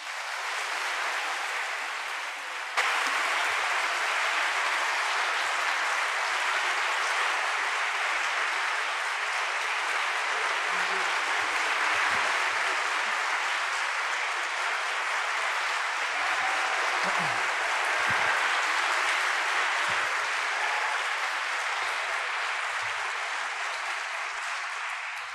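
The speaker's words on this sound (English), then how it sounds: "Please join me in welcoming Secretary Madeleine Albright and Jeffrey Goldberg." Sustained applause from a large audience welcoming Madeleine Albright and Jeffrey Goldberg onto a stage at an evening talk event, steady clapping for about twenty-five seconds with a brief dip near the start.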